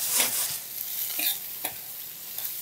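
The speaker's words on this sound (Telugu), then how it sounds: "దాదాపుగా మన పోపు అంతా వేగిపోయింది." A tempering of green chillies and curry leaves sizzles steadily in hot oil while a spoon stirs it, the frying hiss constant with a few scraping strokes and no voices.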